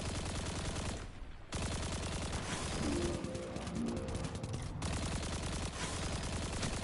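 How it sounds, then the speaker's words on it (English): Sustained automatic rifle fire in a first-person shooter, loud and nearly continuous across the clip with a brief gap near the start and a short break before the end. "This auto rifle is so hard to control."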